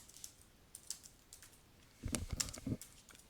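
Computer keyboard typing as an answer is entered in a Moodle online course quiz: a few sparse keystrokes at first, then a quick close burst of clicky taps near the end, with no talk.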